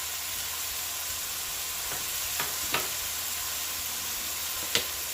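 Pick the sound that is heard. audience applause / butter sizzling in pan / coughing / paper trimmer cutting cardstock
butter sizzling in pan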